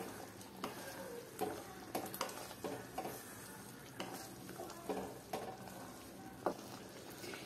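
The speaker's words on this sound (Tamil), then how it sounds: "இப்ப அரிசி மாவு போட்டதுக்கு அப்புறம் கொஞ்சம் கைவிடாம கிண்டணும்" A spoon stirs ginger paste, sugar and rice flour in a hot pan with continuous sizzling, and a series of scraping strokes and light clinks against the pan keep an uneven rhythm, close and fairly loud, with no voices.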